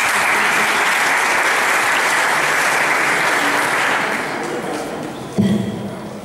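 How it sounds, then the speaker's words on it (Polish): Steady applause fills a school sports association ceremony, dense and sustained before thinning toward the end, with a single thud near the close. "Brawa."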